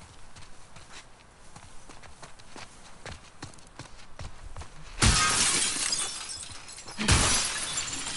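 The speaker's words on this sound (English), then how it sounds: "Just shattering windows on cars." Car windows shattering in The Last of Us Part II: two loud, bright glass bursts a couple of seconds apart, each ringing out with scattered debris, following several sharp nearby impacts and footsteps.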